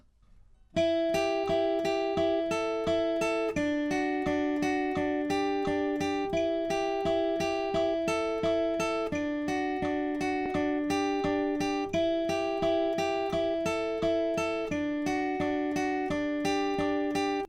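Guitar riff picked at a quick, even pace, the same rapid note pattern cycling over and over, clean and alone from start to finish.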